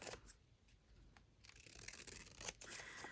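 Scissors trimming a printed journal page, close and soft, with quick snips and then a longer stretch of papery cutting and rustling.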